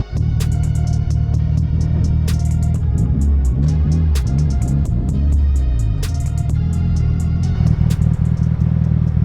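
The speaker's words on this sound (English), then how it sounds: "But the car's still running absolutely amazing." A Mitsubishi Evo 8 engine runs steadily while driving, a loud close low rumble that swells into revving surges mid-way, with faint clatter and no voices.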